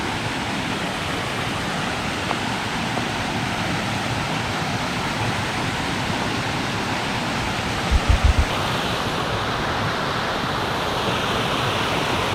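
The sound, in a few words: waterfall rushing water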